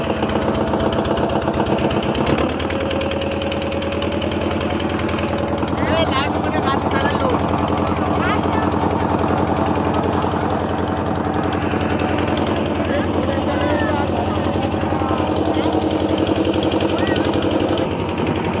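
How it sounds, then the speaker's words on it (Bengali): A boat engine chugs loudly and steadily as the boat pulls away on the way to the Gangasagar fair, a continuous rattling drone running throughout with voices talking over it. "তো বোট ছেড়ে দিয়েছে দেখো"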